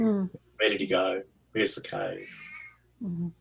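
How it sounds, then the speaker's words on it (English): A vocal house cat meows indoors, mixed in among people talking nearby, with short drawn-out cries between the spoken phrases. "Who's got the cat? I'm curious. That's my cat."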